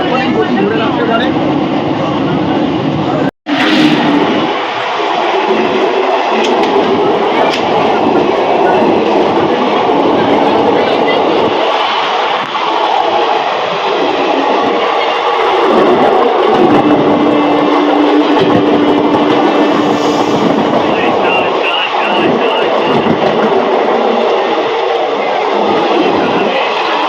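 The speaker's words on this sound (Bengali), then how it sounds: "ট্রেন ছাড়ার সাথে সাথে কিন্তু দুর্দান্ত গতি নিয়ে নিয়েছে ট্রেন এখন।" Santragachi to Digha local train running at speed: a steady, loud rumble of wheels and carriage noise fills the whole stretch, with one sharp click partway through and voices faintly mixed in.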